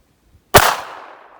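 A single sharp pistol shot from a PA-63 chambered in 9mm Makarov at an outdoor shooting range, loud and close, with a long fading echo trailing after the crack.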